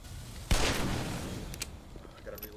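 A single heavy gunshot in the video game Black Mesa, a loud sharp blast with a decaying rumbling tail, followed by fainter clicks and small sounds.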